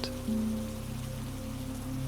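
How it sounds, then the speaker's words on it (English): Steady rain falls in an even, continuous patter, with a low, constant hum underneath and no voices. "The rain came down."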